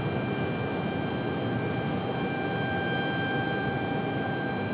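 American Airlines jet taking off from Raleigh-Durham airport, a loud continuous engine roar with steady high whining tones, heard alone without talk.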